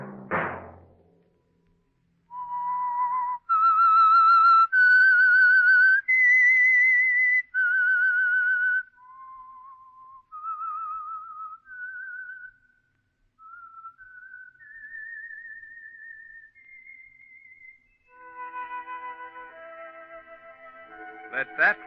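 A melodic tune whistled solo on an old-time radio show, clear sustained notes rising and falling in a slow phrase, close and alone after a brief knock at the start.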